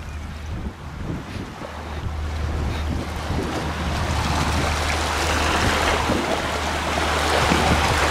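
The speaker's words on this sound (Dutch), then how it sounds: "Kijk hoe hard deze boot gaat." A boat runs fast downstream on the high, flood-swollen Rhine, with a continuous rush of water and wind buffeting the microphone that grows louder and stays steady throughout.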